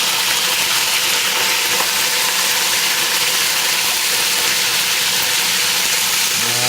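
Small sausages fry and roast in a pan in a restaurant kitchen, giving off a loud, dense, unbroken sizzle throughout.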